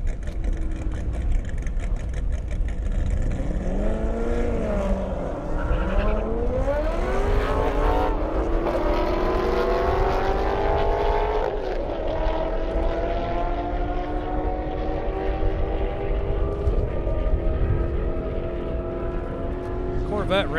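A Dodge Challenger and a Corvette Z06 race cars launch side by side down an airstrip, engines rising in pitch through several gear changes and fading away, with an announcer speaking over the roar.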